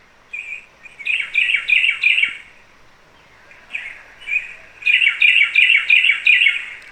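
Birds chirp in quick repeated bursts, bright and close, with a short lull before a denser run of chirps.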